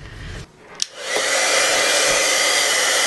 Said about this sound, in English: melt with my heat tool